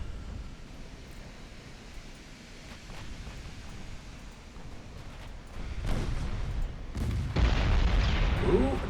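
A battle cruiser explodes in the naval game Ultimate Admiral Dreadnoughts, a low rumbling roar beneath hissing wave-like noise that swells into a loud, deep boom near the end.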